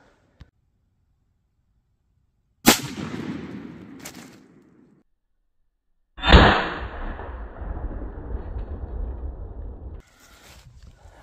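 Two loud, sharp shots from a Remington .410 shotgun firing slugs into ballistic gel ring out several seconds apart outdoors, each followed by a fading echo and rumble, with a faint tap before the first.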